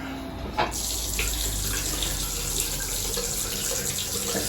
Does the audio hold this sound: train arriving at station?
no